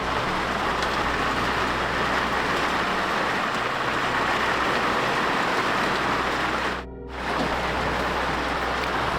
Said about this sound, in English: I'm not sure if you can hear the rain.